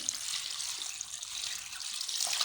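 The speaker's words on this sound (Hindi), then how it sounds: "और इसके अंदर हम डाल देंगे पानी।" Steady hiss of water running into a pot holding salted chicken, continuous and fairly close, with no voices over it.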